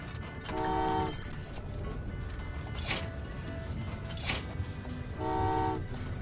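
A train pulls in within the Train Valley 2 video game, its horn tooting twice, once near the start and again near the end, over a steady rumbling rail bed with game ambience.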